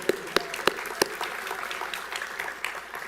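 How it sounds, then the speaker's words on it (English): Faint, sparse applause from a commencement audience at a physical therapy graduation ceremony, with a few sharper claps near the start thinning into a soft patter. "we can applaud"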